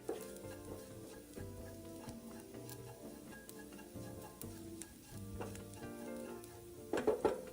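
Dried shrimp and minced garlic stir-fried in a hot wok, with a steady sizzle and repeated scraping strokes of a spatula, busier clatter near the end.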